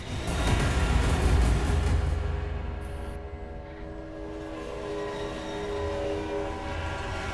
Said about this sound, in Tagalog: Kakabungguan natin yung mga train eh.